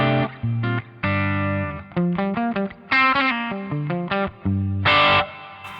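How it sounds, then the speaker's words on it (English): Bass amp model on a Line 6 Pod Go with a glitz reverb, played as a string of picked notes and short phrases that ring out into a shimmering tail, loud and close with gaps between bursts. "Let's just pull in some reverb here."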